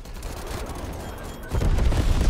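AMP63 pistol gunfire in Call of Duty Cold War, a rapid string of sharp shots over busy game noise, growing louder and denser in the last second, with no talk.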